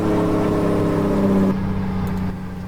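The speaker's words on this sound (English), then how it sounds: "Get that nice Jake brake." A heavy truck's engine brake in American Truck Simulator rumbles with a deep, steady mechanical drone, then the tone drops and eases as the braking tails off near the end, with no talking.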